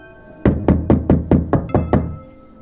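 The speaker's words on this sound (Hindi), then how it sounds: "अचानक बाहर से खटखट की आवाज़ आती है।" Seven sharp knocks on a door from outside at night, a quick, evenly spaced series of loud, close raps with no voices over them.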